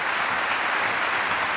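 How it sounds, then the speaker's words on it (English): Audience applause at the opening of a Berlin media conference, a broad, even roar of many hands clapping throughout, loud and unbroken with no one speaking. "Please give a big applause."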